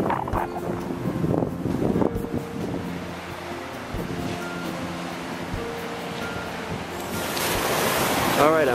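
Ocean waves and wind on a cold, windy Florida beach, a broad rushing surf with gusty wind buffeting the microphone and a wash that grows louder toward the end.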